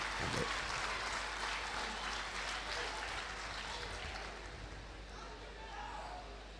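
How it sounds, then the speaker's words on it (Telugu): Applause and clapping from an audience at a Telugu speech event, a dense, steady patter of many hands that fades slightly toward the end, heard at a moderate distance with some talk mixed in. "గంప నాగేశ్వరరావు గారికి హర్షధ్వానాలు, చప్పట్లు కొట్టి"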